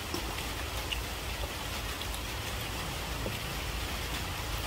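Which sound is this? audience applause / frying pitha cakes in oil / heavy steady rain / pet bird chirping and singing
heavy steady rain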